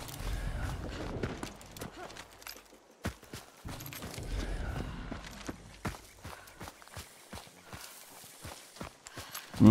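Horse hooves clip-clopping at a gallop in the video game Hunt Showdown 1896, a quick rhythmic run of hoofbeats that fades and returns, with sharper isolated thuds near the end.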